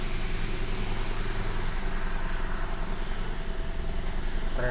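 Engine of a 2011 Kia Picanto idling steadily after a no-crank, won't-start fault was fixed: a continuous, even hum with a constant rumble, close and unbroken throughout, no voices.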